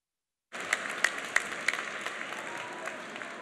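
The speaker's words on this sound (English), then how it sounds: "Why don't you turn around and give them a round of applause?" Audience applause fills a commencement ceremony hall, a steady wash of many hands clapping with a few sharper individual claps standing out, holding at a moderate level without fading.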